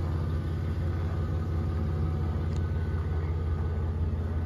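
A 1999 Dodge Dakota Sport four-wheel-drive V6 with 137,000 miles and a cracked right-side exhaust manifold idles nearby, a steady low rumbling drone with an even pulsing throb throughout.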